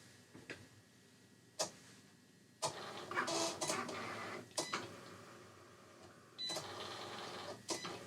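A Cricut cutting machine works a styrene sheet held on a sticky mat, giving quiet stop-start whirring and ticking bursts of carriage movement with sharp clicks between passes, close and without speech.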